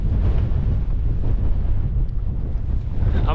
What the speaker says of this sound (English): it is very windy coming through here